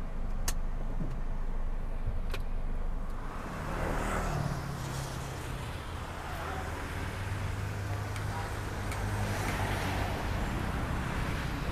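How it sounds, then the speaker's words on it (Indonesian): Inside a 2014 Hyundai Grand i10 automatic, a steady low road and engine rumble with wind noise continues while the car drives, with a few faint clicks and no talk. "Pasang seat belt, adjust buat posisi mengemudi, dan yuk kita coba jalan."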